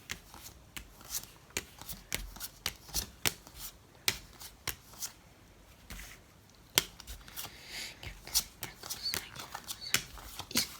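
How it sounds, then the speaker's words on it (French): Game cards from the board game Gold Up dealt one by one into three piles on a table, a steady series of light slaps and flicks, close and crisp, with brief pauses between runs. "je vais quand même distribuer 3 paquets"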